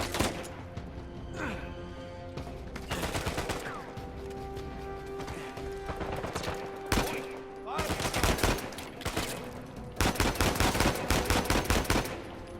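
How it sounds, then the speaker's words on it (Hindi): Gunfire in the video game Uncharted 4: A Thief's End, bursts of rapid automatic shots and single cracks with impacts, repeating in clusters across the clip over low background game sound. "अबे गोलियां पड़ने वाली हैं, निकल ले यहाँ से सैम"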